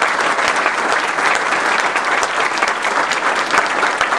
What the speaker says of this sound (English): One more round of applause for the crew.